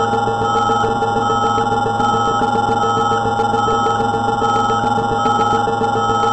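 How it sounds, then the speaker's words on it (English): The alarm bell on a releasing fire alarm control panel rings continuously, a loud and steady rapid metallic ringing that fills the space, heard alone with no speech. "Alarm bell and horn strobe is on. Continuous."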